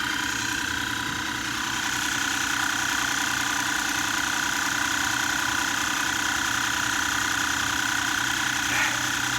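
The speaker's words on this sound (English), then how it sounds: "There you go, you've got your own compressor out in the field." A portable 12V tyre compressor pump runs off a power station in the field, giving a loud, steady mechanical buzz with a rapid rattling pulse that continues unbroken throughout, with no talking.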